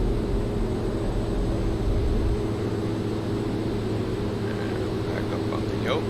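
A propeller airplane engine in the X-Plane 11 simulator drones steadily and loud during a touch and go at San Luis Obispo, a continuous low hum with no break.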